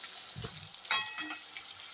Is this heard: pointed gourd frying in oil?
yes